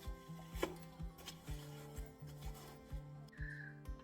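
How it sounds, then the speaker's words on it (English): Chopped watermelon being mashed in a saucepan with a potato masher, a steady rhythm of soft squelching thuds about twice per second, close and fairly quiet. "we're gonna take our potato masher and just mash it up"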